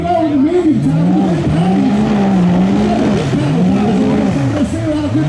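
Off-road buggies on medium tires race around a dirt track at Moccasin Creek, engines revving up and down in loud, wavering whines with tire noise, nearby and continuous.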